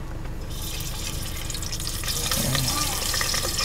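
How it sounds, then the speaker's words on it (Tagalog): Food fries in a pan with a steady, close sizzling hiss that grows slightly louder toward the end, and faint voices sit underneath. "Yan, piniprito yan ate."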